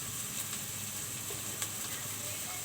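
Panch phoron spice powder sizzles in a pan while a snakehead fish curry is being cooked, a steady faint frying hiss with a few small crackles and no voices.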